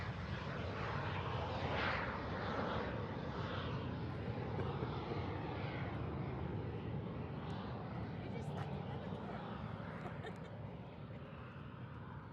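A warbird aircraft takes off and flies, its engine giving a steady, broad roar that stays loud and close throughout with little change.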